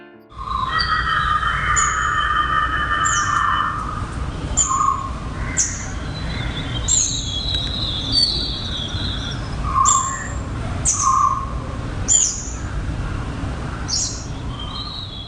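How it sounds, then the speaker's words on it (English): Bright, repeated calls of bulbuls ring out at intervals in the morning, short whistled phrases over a low background hum, sounding fairly close and clear. "The first thing I hear in the morning is the song of the bulbul."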